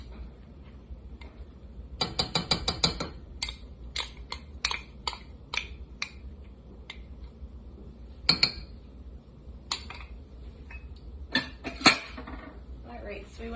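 Light corn syrup mixture for cinnamon bun popcorn stirred in a metal pot, a quick run of spoon clinks at first followed by scattered taps and scrapes against the pot, close and clear, with a voice faintly in the background.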